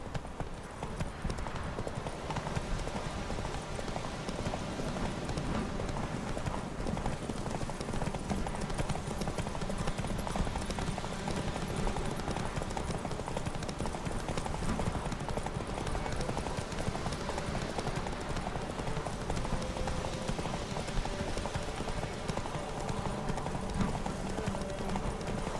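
Roach, a horse in a video game, gallops with a steady, continuous clip-clop of hooves that lasts throughout, while voices speak over it now and then.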